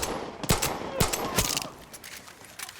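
Far Cry 6 gunfire with flaming bullets, a few sharp close shots cracking in quick succession, then quieter scattered pops trailing off.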